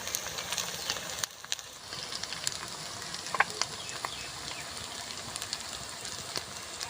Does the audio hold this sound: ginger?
yes